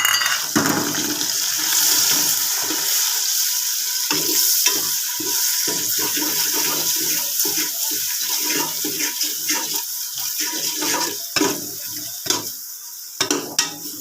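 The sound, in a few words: onions and spice masala frying in a pot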